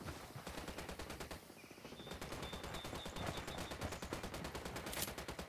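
Rapid automatic gunfire in Ghost Recon Wildlands as Unidad forces fire on the cartel, with continuous, evenly spaced shots from a machine gun rattling steadily throughout, fairly loud and unbroken.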